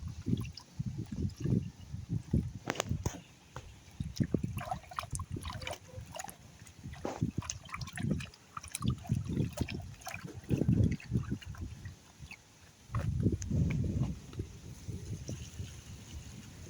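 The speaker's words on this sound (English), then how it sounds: "Wash off one more time." Rice is swished and rinsed by hand in a bowl of water while cooking Jamaican rice and peas, giving close, irregular sloshing and trickling bursts with short pauses.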